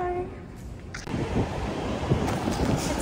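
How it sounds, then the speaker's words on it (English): Steady roaring wind buffets outdoors on the Centennial College campus, a dense rushing noise with gusts, no voices. "It's so windy."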